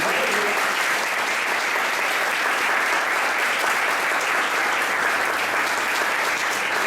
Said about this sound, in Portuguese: Vamos aplaudir ao Senhor por causa disso